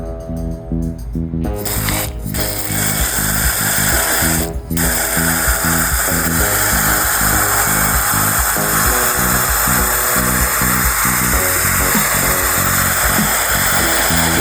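Continuous loud hiss of a water spray rinsing dirt off a dehumidifier filter, running unbroken for the whole stretch with slight shifts as the stream moves.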